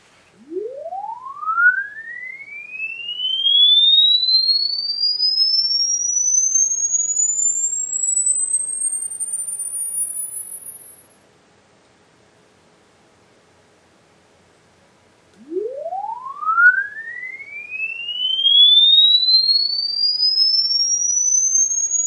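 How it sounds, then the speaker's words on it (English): An audio tone sweeps steadily upward in pitch through an RLC filter fitted with a 10 nF capacitor. The pure, whistling tone climbs over about fifteen seconds, then a second rising sweep starts from low again, loud and alone. "the ramping audio signal sounded a little different"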